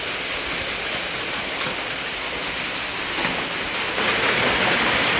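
Rain falling steadily at a rural home, a dense, even hiss of drops on surfaces that swells a little louder near the end, with no voices.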